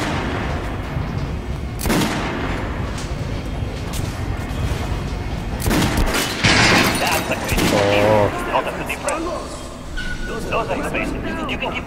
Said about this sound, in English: Now shoot the armor dummy.